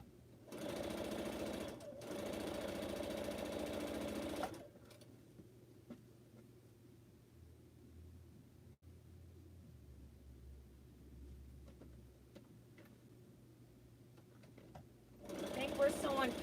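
A sewing machine stitches a pineapple quilt block in two steady loud bursts of motor whir, one near the start and one at the end, separated by a long quieter stretch of low hum and faint room noise.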